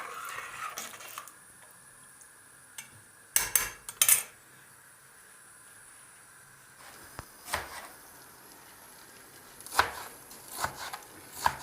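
A knife chops vegetables for a salad in a home kitchen, with a few sparse, sharp cuts spaced out between quiet stretches and a short cluster near the end. No one speaks.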